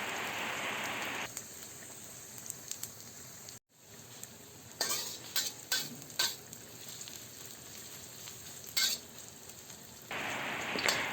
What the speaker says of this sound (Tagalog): kapag mainit na ang mantika, maglagay na tayo ng hiniwang sibuyas